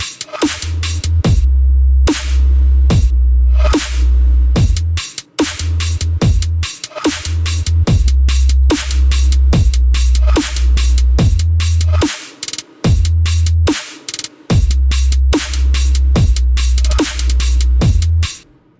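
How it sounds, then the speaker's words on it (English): Drums and sub bass from a track: a loud, steady backbeat of punchy hits over deep, sustained sub-bass notes that drop out briefly between phrases, with no voices. "all the drums and the sub lines sound like this."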